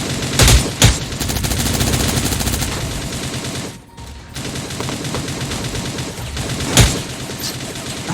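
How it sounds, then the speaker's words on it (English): Bursts of gunfire crackle through a Cyber Hunter battle-royale match, with sharp shots near the start and again near the end over a steady dense background of game noise. "We had some gunfire going in the distance."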